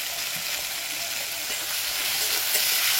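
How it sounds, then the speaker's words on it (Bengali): Chopped tomato frying with ginger in a pan, giving a steady, close broadband sizzle that holds even and continuous throughout, with no talking. "এই টমেটোটাকে ভেজে নেব"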